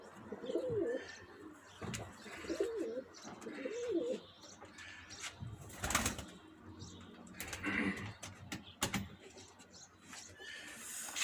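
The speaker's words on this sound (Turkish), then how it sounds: "Şöyle yavaştan kuşlarımızı çıkartalım." Pigeons in a loft with young birds in training coo in soft repeated warbling phrases, with clicks and knocks in between and faint background sounds.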